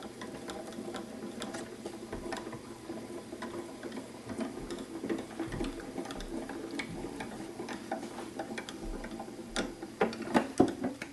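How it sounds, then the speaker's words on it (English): A Spellbinders Grand Calibur die-cutting machine has its handle cranked steadily, giving a close, continuous run of soft ticking and clicking mechanical sounds with a few louder clicks near the end. "now I'm just going to turn my handle"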